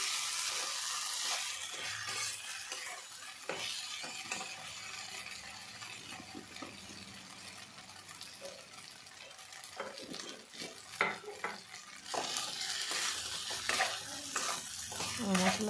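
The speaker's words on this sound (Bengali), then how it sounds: "এখন আমি ভাজবো, ভালো করে ভাজার পর" Spices fry in oil in a pan for a raw banana curry, a continuous sizzle with intermittent stirring scrapes and clatters, louder bursts toward the end, with no talk.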